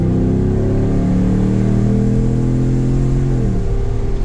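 A truck engine fitted with JBA shorty headers revs up loud and close, its deep rumbling exhaust rising in pitch as it accelerates, then easing off near the end.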